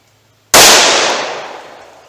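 A single loud, sharp gunshot from a 4-inch 9mm handgun firing Remington HTP ammunition, after near silence, with a bright crack and a long ringing decay trailing off over about a second and a half.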